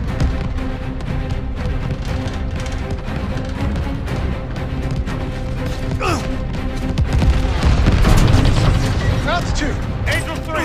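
Anti-aircraft fire and explosions rumble and crack during a Battle of Midway bomber mission in Call of Duty Vanguard on PS5, a dense continuous barrage with louder booms building later, under engine drone and radio chatter.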